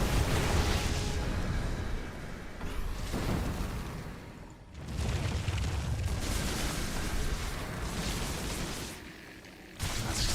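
Lurker attacks in StarCraft: dense, noisy blasts and rumbling bursts that swell and ebb in several waves, loud and continuous, with no voices.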